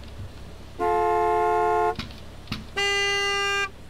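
A car horn in the video game Gas Station Simulator honks in two long, loud blasts, each about a second long, separated by a short pause with faint background noise and no speech.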